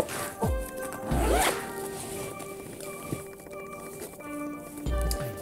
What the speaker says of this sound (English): And this zips up.